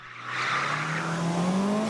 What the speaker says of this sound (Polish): Ryk silników, pisk opon i walka z czasem.